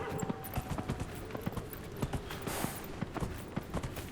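A horse gallops in the video game Dragon Age: Inquisition, its hooves making a steady, rapid clip-clop rhythm over a dense background of game ambience throughout.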